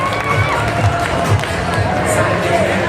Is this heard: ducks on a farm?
no